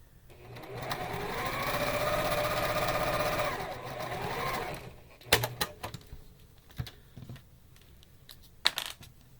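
Sewing machine stitching small quilt block pieces, a steady close whirring run for several seconds that stops, followed by clicks and handling knocks.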